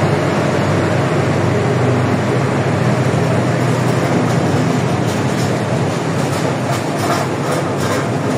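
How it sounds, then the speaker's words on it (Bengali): A train runs close by, a loud continuous rumble of wagons with rhythmic clickety-clack of wheels over rail joints, steady throughout with no talk. "দাঁড়ান ট্রেনটা একটু চলবে।"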